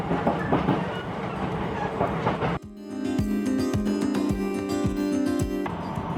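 A train running in Japan, steady rumbling rail noise at first, then a clear interior ride with rhythmic clickety-clack wheel thumps over joints and a sustained tonal hum, continuous and fairly loud.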